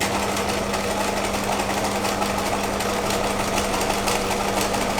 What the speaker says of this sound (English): and continue to sew along.